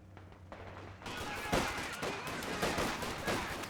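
Rifle squad gunfire in Company of Heroes 2 as riflemen and a captain engage grenadiers; after a quieter start, sharp rifle cracks and bursts of shots break out loudly and continue in an irregular volley.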